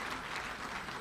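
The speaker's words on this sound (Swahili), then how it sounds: "Hebu tujipongeze wa Tanzania kwa makofi mengi sana." Applause from a Tanzanian audience at a presidential speech marking the launch of revised laws, a steady dense clatter of many hands filling the whole moment without any talk.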